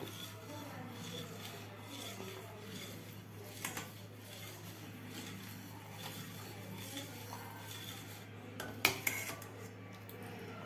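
A utensil stirs milk payasam in a pot, giving steady scraping and rubbing with occasional metallic clinks, close and moderately quiet, with a louder clatter near the end.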